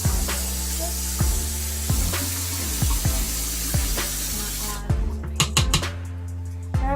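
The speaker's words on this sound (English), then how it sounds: "I wash my toothbrush." A tap runs steadily into a bathroom sink as a toothbrush is rinsed under it, with repeated knocks and taps of the brush against the basin, close and loud, no talk.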